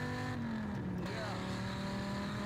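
A V10 car accelerating hard with strong torque, its engine note steady and loud throughout from a close, in-car perspective, a rising harmonic drone.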